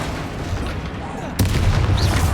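A Bombarda spell explosion in the video game Hogwarts Legacy, a single sudden loud blast that cuts through ongoing battle noise and leaves a sustained rumble behind it.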